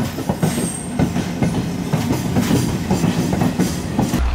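Steady rattling clatter of railway cars rolling by nearby, wheels thumping rhythmically over the track joints with faint metallic screeching.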